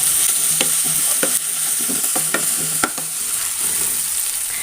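A spoonful of ginger garlic paste sautés in a hot pan, a close, even hiss of frying punctuated by a run of sharp spatula strokes against the pan, no talking.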